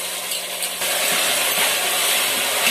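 Potatoes added to a pan of frying peas give a steady, close hiss and sizzle that swells slightly as they hit the hot oil, with no voices.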